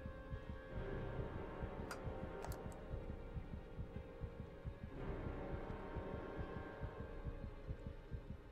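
Slow, regular heartbeat thuds pulse steadily throughout the Heavy Rain video game scene, low and throbbing under a constant hum, with a few brief higher clicks near the start.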